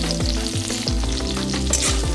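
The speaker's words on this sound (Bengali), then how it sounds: "আলু আর শিম একসঙ্গে আমি ভেজে নিচ্ছি" Oil sizzles steadily as potatoes and flat beans fry together in a pan, with background music playing throughout.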